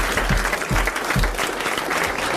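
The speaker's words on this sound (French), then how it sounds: "Alors d'abord, vous applaudissez Madame Lebert." A television studio audience applauds Madame Lebert, dense continuous clapping at close range with a few heavier thumps underneath.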